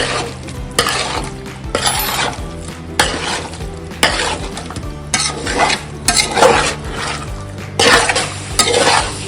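Chicken pieces get stirred in a pot for green chicken pulao, the spoon scraping and clattering in rhythmic bursts over a continuous sizzle, close and fairly loud.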